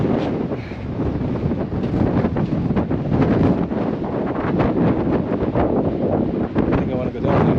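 Strong wind buffets the microphone on a beach at Lagos, Portugal, a loud, continuous rushing roar with gusty swells throughout. A voice speaks briefly beneath it.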